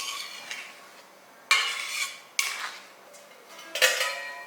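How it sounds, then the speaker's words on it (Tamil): A metal plate clatters onto a cooking pot of simmering vathal kuzhambu, with a few distinct close clinks and scrapes of metal on metal separated by quiet moments. "பாருங்கள், தட்டை வச்சு மூடி வச்சிடலாம்."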